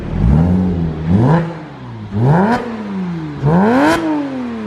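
Inside a hangar, a Porsche 987 Boxster S engine is revved four times in quick succession, each blip climbing sharply and dropping back to a burbling idle, loud and close.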